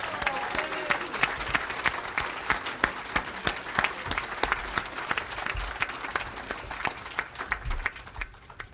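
Applause for Jennifer Brunner at a Democratic Senate nomination event in Ohio: a dense, sustained burst of crowd clapping lasting several seconds, steady and fairly close, with faint voices mixed in.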